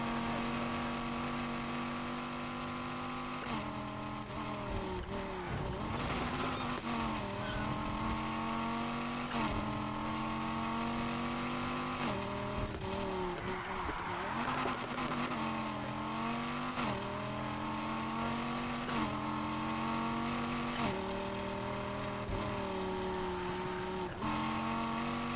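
A Dodge SRT Viper's engine in the racing game Need for Speed Heat, revving loudly and continuously with repeated rising and falling pitch sweeps through gear changes, alone without talk.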